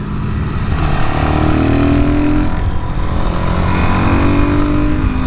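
A Suzuki DRZ400SM with a modified air box drones loudly and steadily while riding on curvy roads, its engine note shifting slightly in pitch under heavy wind rush.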